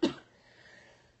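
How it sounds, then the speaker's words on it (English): A single short cough bursts out at the start, then fades into quiet room noise. "I still cannot get rid of this cough"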